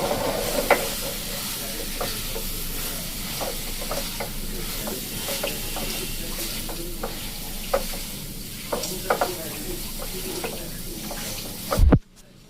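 Powdered milk being stirred into a rasmalai milk mixture in a pan over heat, with a steady gentle sizzle and recurring soft scraping taps of the spoon throughout, ending in a sharp clatter.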